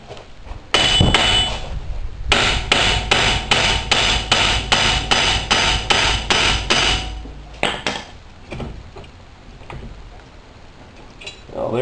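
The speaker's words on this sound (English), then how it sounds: "smack it with a hammer and see if it comes off" Loud metallic hammer blows ring out on a wheel hub in a rapid, regular series during a wheel bearing replacement, pausing briefly, then a few scattered strikes follow.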